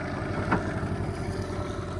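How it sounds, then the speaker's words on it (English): A 15 horsepower two-stroke outboard motor drives a boat, running steadily and close by with a buzzing, rapidly pulsing drone and one brief louder bump partway through. "Yummy 15 horsepower, 2-stroke."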